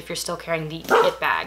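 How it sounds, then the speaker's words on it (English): A dog barks several times in quick succession close by, short sharp yips and barks mixed with someone talking over them indoors. "sorry, that was my dog."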